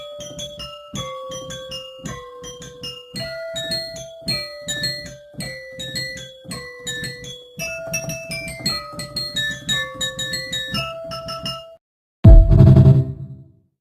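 Carol of the Bells played as a quick, rhythmic melody of tuned glass chime notes in a repeating pattern, then stops before a short loud burst of noise at the end.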